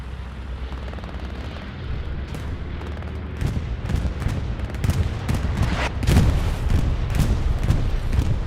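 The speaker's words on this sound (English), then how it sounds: "Artillery strikes called in." Artillery strikes in the Hell Let Loose video game land as heavy booms and sharp cracks over a rumbling battlefield, with the blasts growing denser and louder toward the end.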